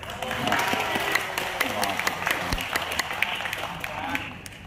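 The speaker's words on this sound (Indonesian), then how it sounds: "Tepuk tangan dong." Audience applause at a community meeting about revitalising a market in Surabaya, a steady crowd of clapping hands with sharper individual claps standing out, and voices underneath.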